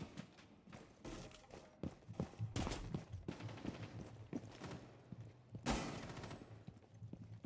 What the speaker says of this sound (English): he's going to take some gunfire